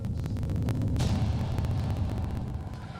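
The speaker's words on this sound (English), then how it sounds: "Explosions." Explosions shown as fire-training footage during a fire conference: a steady, loud roaring rumble with repeated sharp bursts, one strong blast about a second in, then a sustained low boom that slowly fades.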